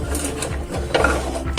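A homemade MPCNC CNC machine runs with a loud, steady mechanical whirr and grinding stepper-motor drone, rattling gear-like texture and periodic pitch sweeps as the axes move.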